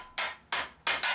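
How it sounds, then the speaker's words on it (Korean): Hand hammers beat a silver sheet being shaped into a kettle: three or four bright, ringing metallic blows at a steady, deliberate pace, close and loud, with no voices. "다양한 망치를 바꿔가며 은판을 두드려 조금씩 모양을 잡아갑니다."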